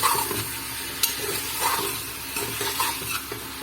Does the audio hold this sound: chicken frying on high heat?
yes